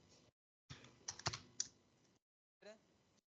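Java code is typed on a computer keyboard, giving a few short, close clusters of key clicks separated by silent gaps, quiet and unaccompanied by talk.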